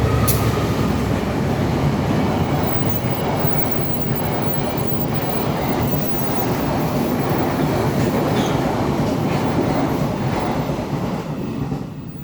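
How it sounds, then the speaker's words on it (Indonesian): A train rumbles past close by, a loud steady roar of rolling wheels and rattling cars that eases slightly toward the end. "Sebentar, ada kereta ya."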